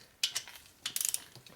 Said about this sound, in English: I like a little extra torque on these